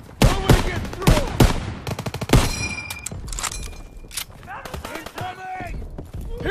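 Rapid bursts of rifle and machine-gun fire from a World War II battle in Call of Duty: WWII, loud sharp cracks repeating close by, with shouted voices mixed into the combat.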